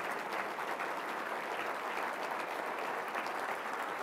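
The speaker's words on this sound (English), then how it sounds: "Would you give them another great big round of applause?" A crowd at a spring charity fundraising gala applauds in a dense, continuous wash of clapping that holds steady throughout, moderately distant.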